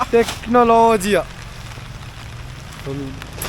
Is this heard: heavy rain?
yes